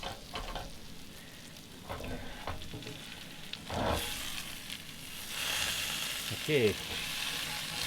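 Food sizzles and crackles steadily in a pan on a Coleman Model 5466A propane stove, a soft continuous fry with occasional scraping and stirring, and one brief spoken word.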